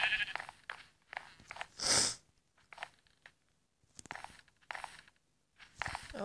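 Sheep in the Minecraft video game bleat in short, nasal cries, one loud near bleat standing out among fainter repeated bleats and soft mechanical clicking.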